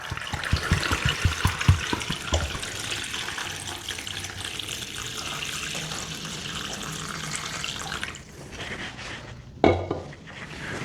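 Warm boiled water runs from a tap into a pot for a turkey aspic, a loud continuous splashing pour with metallic clatter early on, then a thinner stream that stops and briefly resumes.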